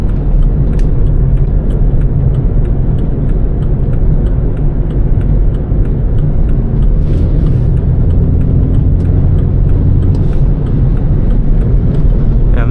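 A turbocharged BMW F30 pulling hard, its engine a dense, loud, continuous low roar with road rumble heard from inside the car.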